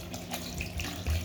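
Filtered water poured into mixed lentils for a radish dal, a short, faint splashing trickle with a brief louder gush at the end, heard alone.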